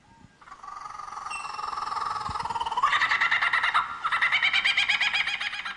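A superb lyrebird imitates a kookaburra's laughing call, starting with a rising hoot and building into loud, rapid, cackling bursts that repeat over several seconds, close and clear with no voices.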